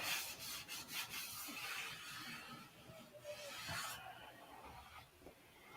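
Hand sanding of an airplane surface with fine 600-grit sandpaper, a faint, soft rubbing hiss in short strokes that come and go, heard close with no talk.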